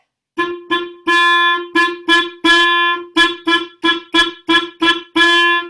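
A wind instrument plays one repeated note in a rhythmic pattern of short, sharply tongued accented attacks mixed with longer held notes, loud and close.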